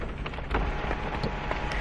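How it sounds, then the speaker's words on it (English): Rain or sleet falls steadily outside a Hummer H3 with its sunroof open, a dense patter with occasional louder drops hitting the roof and glass, continuous and close, with no talking. "It is raining out, or sleeting."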